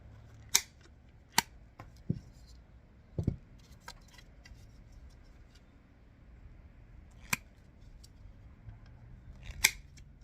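Pliers snap plastic pieces off a car radio install kit for a 2005-2010 Pontiac G6: several sharp, isolated clicks and cracks spaced irregularly over a quiet background, fairly close.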